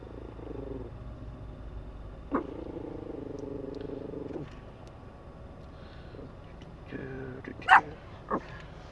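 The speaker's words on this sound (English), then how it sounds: "my dog's barking at other dogs from the window, so we might get some barking today" A dog indoors barks at other dogs through a window. A few sharp barks and yips come faintly over a low background hum, with a louder bark near the end.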